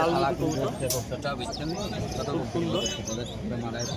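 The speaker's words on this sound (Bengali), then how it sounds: "একটি কবুতর দেখাচ্ছি তোমাদের" Pigeons coo amid the busy Beldanga pigeon market, with voices chattering over the soft, repeated calls.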